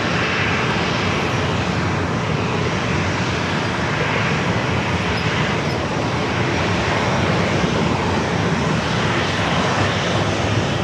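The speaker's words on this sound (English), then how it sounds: "Southwest 869 number 27, clear for takeoff" Southwest airliner taking off from runway 27 at San Diego airport, a loud, steady jet engine roar filling the air throughout, broad and rumbling without breaks.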